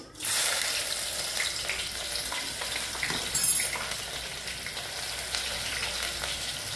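Whole spices, cinnamon stick and cloves, hit hot oil for a chicken curry, giving a loud, steady broadband sizzle that bursts up at the start and holds with crackling pops throughout, no voices.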